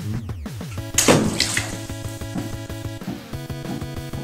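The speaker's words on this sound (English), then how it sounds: "We're going to drop them in the water and see which one floats, which one sinks." Cans of regular Coke and Diet Coke splash into a container of water, one sharp plop followed by softer sloshing and gurgling, close and clear with no talking.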